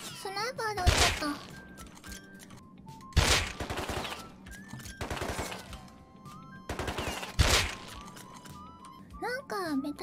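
Three loud sniper rifle shots crack out, evenly spaced several seconds apart, in the online survival video game Rust. A voice talks over the game audio between the shots.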